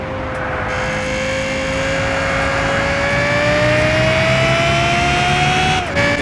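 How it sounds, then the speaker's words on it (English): Lexus LFA engine sound in the Gran Turismo racing game: a loud, sustained whine rising slowly in pitch through the rev range, then dropping sharply near the end, alone without voices. "Lexus LFA,"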